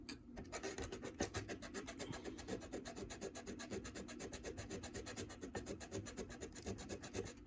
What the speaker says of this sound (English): we're going to take it to the sanding block